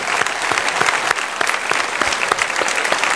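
A church congregation at a Sunday worship service applauds continuously, with many hands clapping close together in a dense, even burst lasting a few seconds.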